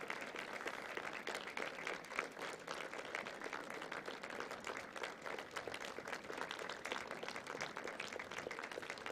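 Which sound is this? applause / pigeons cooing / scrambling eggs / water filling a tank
applause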